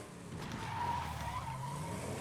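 Car tires skid in State of Decay 2, a steady, fairly faint screech sustained for about two seconds over a low engine rumble, with no talk.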